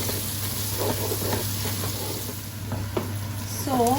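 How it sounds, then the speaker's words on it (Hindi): Ginger garlic paste fries with onions in a pot for Karachi-style chicken biryani, giving a soft steady sizzle with intermittent spoon scrapes and stirring strokes close by, and a low hum underneath. "In goes our ginger and garlic and I gonna stir it और स्टर कर दूँगी इसे इंशाल्लाह।"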